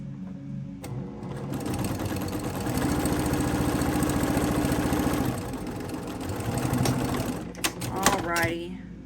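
A sewing machine stitches quilt pieces together in a close, steady mechanical whir that runs for several seconds, quickens in the middle and then stops, followed by light handling clicks.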